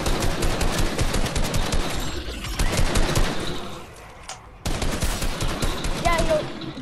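Rapid automatic gunfire from a weapon in Fortnite's zombie horde mode, dense bursts of sharp shots that pause briefly before resuming, loud and close with in-game sounds mixed in.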